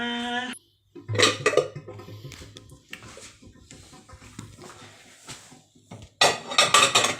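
Dishes and cutlery clatter and clink close by in irregular bursts, with a short tonal beep at the start and a louder rattle near the end.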